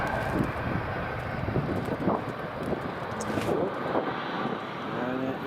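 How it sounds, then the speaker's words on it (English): A United airliner on approach, turning final at Edinburgh Airport, gives a steady mid-distance engine roar mixed with wind buffeting on the microphone, with no speech. "So United is just about to turn final now."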